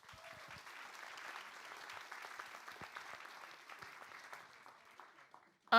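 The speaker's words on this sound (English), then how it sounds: "Please give them a round of applause." A theatre audience applauds the cast of a Hamlet production, a steady wash of many hands clapping that holds for several seconds before breaking off into a sudden loud burst at the very end.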